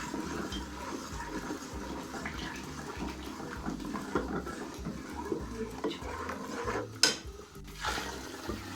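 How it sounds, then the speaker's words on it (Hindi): Besan lassi is poured into simmering Punjabi kadhi in a pot and stirred in, making a continuous watery pour and splash with some sloshing near the end. "अब हम इसमें ये जो बना के लस्सी हमने रखी थी बेसन डाल के वो डाल रहे हैं। इसको ऐसे हिलाते रहना साथ साथ।"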